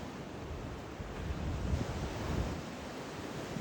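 Sea waves rolling onto a shore in a calm seaside setting, a steady broad wash of surf with gentle swells and a light windy hiss, close and continuous with no voices.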